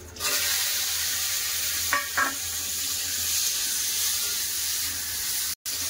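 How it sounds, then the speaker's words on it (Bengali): Dry chilli and karamcha chutney spices fry in oil with a steady close sizzle, broken by a couple of quick stirring scrapes and a brief cutoff near the end. "তেলের উপর ভালো করে একটু কষে নেবো।"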